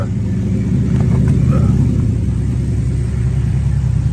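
A muscle car engine idles nearby with a loud, steady, deep rumble, continuous throughout with no talking.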